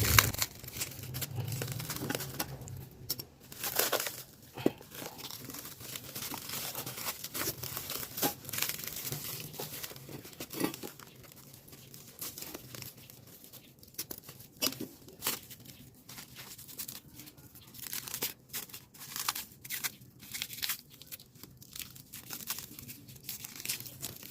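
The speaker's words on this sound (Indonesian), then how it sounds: "gue udah siapin gunting, jadi gue pengen buka dulu" Plastic packaging for a motorcycle center stand being cut open with scissors, with steady crinkling and tearing plus sharp crunchy bursts across the whole stretch, close and fairly loud, no talk.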